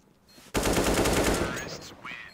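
An AK rifle fires in Counter-Strike: a sudden, loud, rapid automatic burst lasting over a second, then tapering into quieter shots and game effects.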